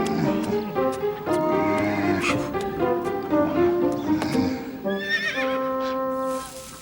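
Horses neigh and whinny repeatedly, loud and close, with hooves clopping underneath and a final drawn-out whinny.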